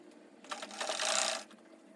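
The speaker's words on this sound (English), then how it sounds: "So just follow the curvy part and stitch it down." A sewing machine stitches along the curved neckline of a halter neck circle flare dress, a short, steady burst of rapid mechanical whirring that rises and falls, quiet and close.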